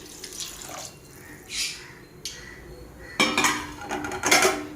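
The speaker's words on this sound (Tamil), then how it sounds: "நல்லா வதங்கினதுக்கப்புறம் ஒரு சொம்பு தண்ணி சேர்த்துப்போம்" Water is poured from a small metal pot into a cooking pan of sautéed ingredients for a prawn thokku. A few light clinks come first, then a louder splashing pour fills the last second and a half, close by.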